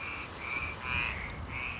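Clear, close croaking from a native black-spotted pond frog in a rice paddy: four short, raspy calls in quick succession with no voices around.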